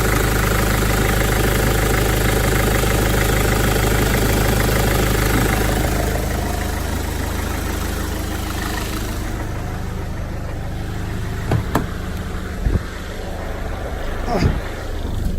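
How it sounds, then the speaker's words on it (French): BMW 320d E46 diesel engine idling cold while warming up, a steady low rumble with knocking clatter that eases slightly partway through, with a few sharp clicks near the end. "Ah, c'est un diesel, hein, ça a du mal."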